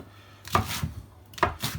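A knife chopping broccoli on a cutting board for broccoli and Stilton soup, two firm close chops about a second apart, each followed by a brief scrape.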